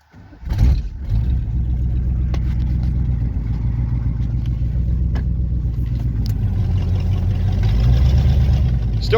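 A lifted OBS Chevrolet K1500 pickup truck starts with a burst and settles into a loud, steady, rumbling engine run, close by, with slight rises in revs toward the end.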